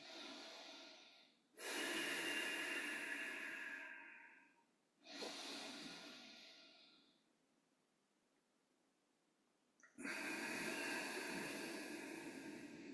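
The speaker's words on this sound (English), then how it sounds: "Take a couple of udanic breaths. Those are the ones that flush the sinuses." Slow nasal yoga breaths, heard up close as long, rough airy rushes through the sinuses, three or four drawn-out inhales and exhales separated by brief quiet pauses.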